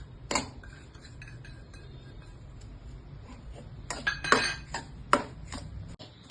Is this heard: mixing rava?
yes